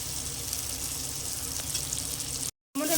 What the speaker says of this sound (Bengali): দিয়ে ভালো করে আবারও কষিয়ে নেব যতক্ষণে টমেটোটা নরম হচ্ছে।